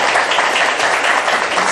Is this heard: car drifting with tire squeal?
no